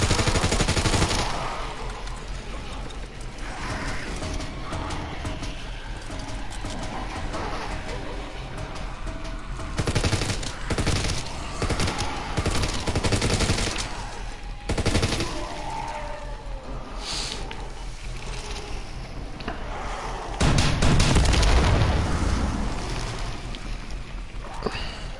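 Rapid gunfire from a pack-a-punched upgraded weapon in a zombies-mode shooter, bursts of shots repeating across the stretch amid busy game noise, with a heavier blast near the end.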